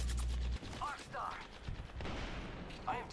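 Gunfire in an Apex Legends match: rapid automatic shots and clattering mechanical sounds spread through a short stretch, moderately loud with voices talking over part of it.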